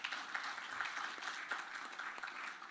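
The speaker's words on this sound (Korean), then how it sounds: "다시 한번 박수 부탁드립니다." Audience applause at a Korean nuclear, CBRN and EMP crisis-management policy forum, a steady wash of hand clapping across the hall that is fairly quiet and distant, holding even from start to finish with no voices over it.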